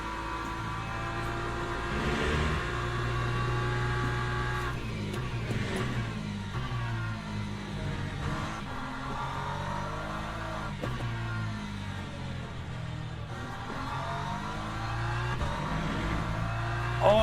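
A Ferrari race car in the Le Mans Ultimate racing sim holds a loud, steady engine drone with shifting revs for the whole stretch, its tone rising and falling as it races, and other car engines blend in.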